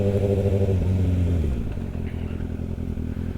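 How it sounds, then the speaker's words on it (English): A Kawasaki ZX6R sport motorbike pulls away, its engine note dropping from a steady loud hum into a lower rumble as it recedes, with no voices. "It feels like a mini motorbike."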